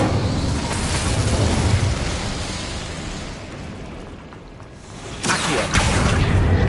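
Incendio fire spell cast in the Hogwarts Legacy video game: a loud, sustained fiery whoosh and rumble that dips briefly, then swells again with a fresh burst near the end.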